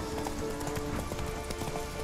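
Rapid hoofbeats clatter steadily throughout, a horse galloping at a fast even rhythm over a dense, noisy soundscape in The Witcher 3: Wild Hunt.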